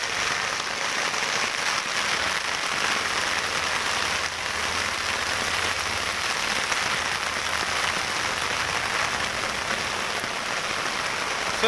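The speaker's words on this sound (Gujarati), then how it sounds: "આય વરસાદ આય." A torrential downpour drums on the ground in an even, continuous roar of rain, close and loud from start to finish without any talking.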